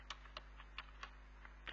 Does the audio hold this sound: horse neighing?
no